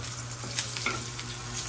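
Garlic frying in a pan while cooking an eggplant dish, a steady soft sizzle with faint crackles running throughout, close and alone with no talk.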